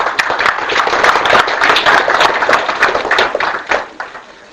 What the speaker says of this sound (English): Just clap once.